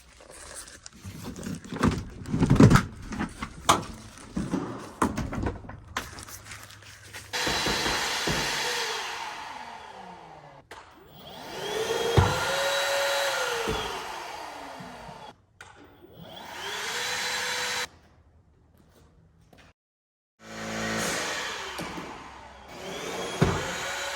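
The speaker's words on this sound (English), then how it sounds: "my Milwaukee Pack-Out vacuum" A Milwaukee Pack-Out vacuum cleaner runs in bursts, switching on and off several times with a loud, broad whirring roar and pitch sweeps as the motor spins up and winds down, with no talking.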